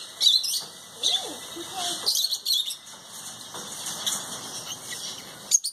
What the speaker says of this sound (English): Look at all the lovebirds